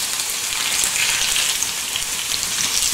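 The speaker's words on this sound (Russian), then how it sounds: "здесь у нас жарится картошечка" Potatoes fry in plenty of oil in a pan, giving a steady, close, crackling sizzle that holds evenly throughout with no talking.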